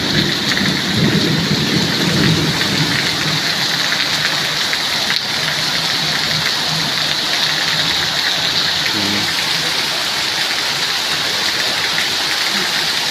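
Heavy rain pours steadily throughout, with low rumbles of thunder rolling underneath as cooling rain breaks hot, cloudy weather; no voices, just a dense continuous downpour.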